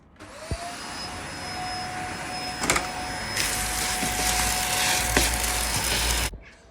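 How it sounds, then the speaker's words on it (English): A vacuum cleaner fitted with a thin nozzle sucks debris from the track of a bi-fold door, a steady loud whine with a rising tone that thickens with rattling grit midway, then cuts off abruptly near the end. "grab a hoover with a thin nozzle on the end, simply just get all of the debris out of the track"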